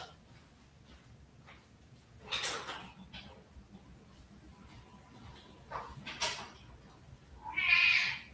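A house cat named Hugh meows after being let in through a door, a short bright cry near the end following quieter household noises and a few soft thumps.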